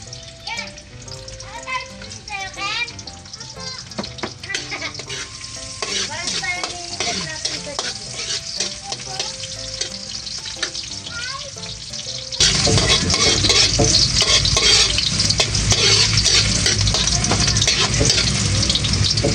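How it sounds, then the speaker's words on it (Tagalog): Ginger sautéing in a pan for a coconut-milk fish dish, sizzling steadily with clinks and stirring, softer at first under background noise, then jumping to a loud, dense fry for the last several seconds. "Gigisa po muna natin yung luya."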